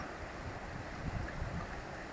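Small waterfall on the Saar river at Sarreguemines, low after little rain, giving a steady broadband rush of falling water with gusty outdoor noise, continuous and moderately distant.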